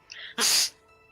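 A single sharp sneeze, close and loud, opening with a short intake of breath and ending in a hissing burst about a third of a second long.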